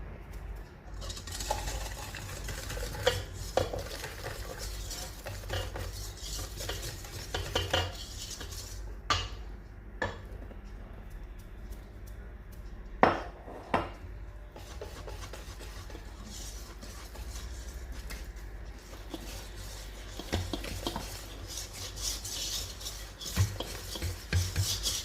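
Flour is stirred into burger bun dough with warm milk in a bowl, producing continuous soft scraping and rubbing with scattered clinks of the utensil against the bowl, quiet and close throughout.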